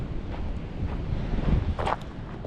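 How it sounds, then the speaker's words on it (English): Wind buffets the microphone near a San Francisco beach, a steady low rumble with gusts that swell and fade, and no other clear sounds. "it's like you have the wind blowing you all the time"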